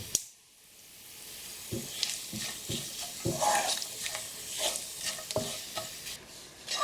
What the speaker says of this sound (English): So we're going to temper the dal with the garlic and chilli. Hear the sizzle.